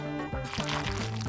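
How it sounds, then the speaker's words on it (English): Hot water pours into an instant food in a kitchen, a steady liquid fill with gurgling tones running continuously under a faint background for just over a second. "And add hot water."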